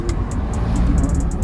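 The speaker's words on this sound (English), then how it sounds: "Oh, we got a Corvette right there." A Corvette drives along a city street close by, a steady low engine rumble and road noise heard from inside a moving car, with a rhythmic clicking on top.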